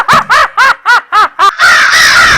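A crow caws six times in quick, evenly spaced, loud close calls, followed by a short burst of noisy hiss.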